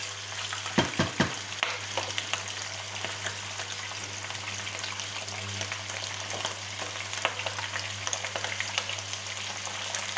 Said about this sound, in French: on cuit nos manches, on fait revenir nos manchons